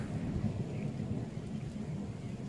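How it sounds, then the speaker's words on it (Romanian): Steady rain beats down over a private fishing pond in Giurgiu county, Romania, while low thunder rumbles continuously underneath, a dense and fairly loud storm with no voices. "a început ploaia, tună, fulgeră"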